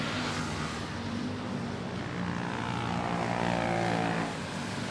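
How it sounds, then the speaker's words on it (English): A Beechcraft propeller airplane on short final approach at Manila Airport drones steadily and loudly, a continuous engine and propeller roar that swells slightly before easing off, with no talk. "we have another Beechcraft, it appears. On short final."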